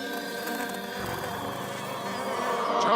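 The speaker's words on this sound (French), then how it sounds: "Eddie se bagarrait avec une mouche." A housefly buzzes steadily in a Garfield cartoon, a faint continuous drone that swells slightly toward the end, with no talk over it.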